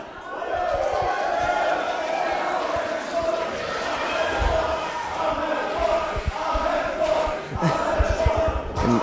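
A wrestling crowd at a CTWE independent show, during a match, chanting in a rhythmic, sustained, loud roar of massed voices, with scattered thuds and a commentator talking over it.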